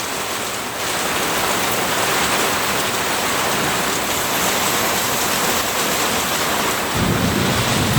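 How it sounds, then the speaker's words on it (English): A thunderstorm pours heavy, continuous rain in a dense roar, with low rumbling thunder swelling underneath toward the end. "It's raining"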